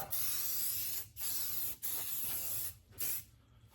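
Coating sprayed onto the floor pan of a 1949-51 Mercury in four loud, steady hissing bursts separated by brief pauses, close by with no talking.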